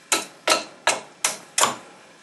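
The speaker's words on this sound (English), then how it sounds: "I'm moving the vise around." A bench vise being shifted around on a workbench gives five sharp metallic knocks, evenly spaced about every 0.4 seconds, each one close and fairly loud with a short ringing decay, and no voices.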